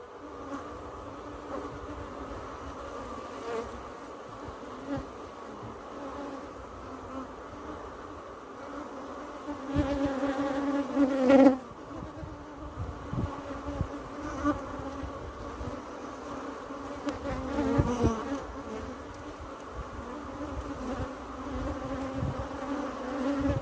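Africanized bees buzz around an open hive, a dense continuous drone close by that swells as individual bees pass near, with no voices.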